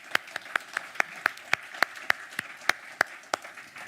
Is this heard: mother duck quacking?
no